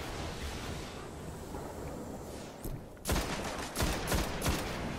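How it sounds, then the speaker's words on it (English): Machine gun fire in the Destiny video game, a couple of loud, rapid bursts cutting in over a dense background rumble in the second half. "He's got a machine gun."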